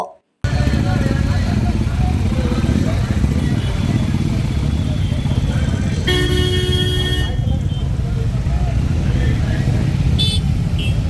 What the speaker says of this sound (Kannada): ಬೈಕ್ ರ್ಯಾಲಿಗೆ ಚಾಲನೆಯನ್ನ ನೀಡಿದ್ರು